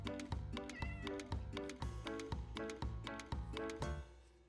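A cat meows repeatedly in the video game KiwiLife2, clear, close calls set against rhythmic game music with no speech.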